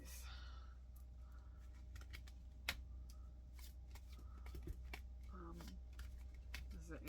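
Angel Oracle cards riffled and shuffled close by at low level, a run of quick soft paper flicks and taps with one sharper snap, a faint voice murmuring underneath.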